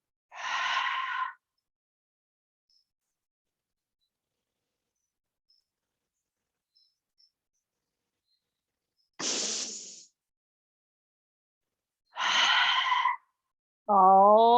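During a yoga abs session, a person exhales forcefully several times with a closed throat, producing short breathy rushes of air separated by long silences, close and clear, followed by a brief vocal sound at the end.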